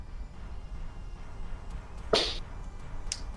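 A single sharp hand clap cracks out once in a quiet room, followed a moment later by a fainter second snap.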